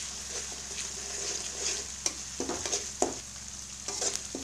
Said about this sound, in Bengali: আদা আর পেঁয়াজটাকে কিছুক্ষণ তেলে ভাজতে হবে।